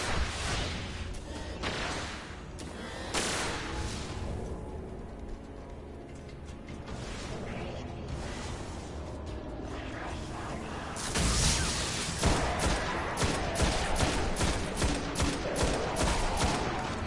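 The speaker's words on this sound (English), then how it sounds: "I shot his head off." Rapid gunfire in the Destiny: Rise of Iron game, dense volleys of shots running throughout with a louder, heavier burst of fire near the end.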